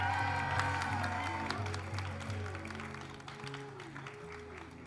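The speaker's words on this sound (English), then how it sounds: "A big round of applause for Ramani Shiromani!" Audience applause for Ramani Shiromani after a round of a wedding-style party game, a steady wash of clapping mixed under sustained music that fades gradually over the span.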